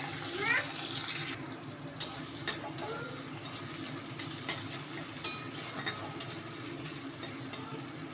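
Onion frying in hot oil in a wok for a snake gourd curry, a soft steady sizzle with a faint hiss and occasional sharp clicks and taps of a utensil, fairly quiet and with no talk.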